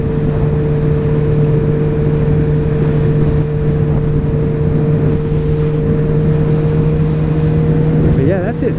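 A 2013 Suzuki GSX-R 750 sport bike being ridden, its engine holding a steady loud drone with a sustained even pitch throughout, a brief rise in revs near the end, and no clear voices.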